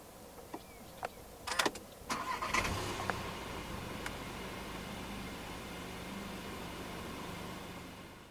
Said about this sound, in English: Put your foot on the brake and press the start button located down the center console